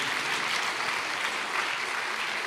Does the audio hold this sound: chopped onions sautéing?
no